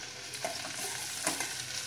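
Okra sautéing with chili in a pan over high heat, a steady broadband sizzle with a couple of louder scraping stirs, close and continuous, no voices.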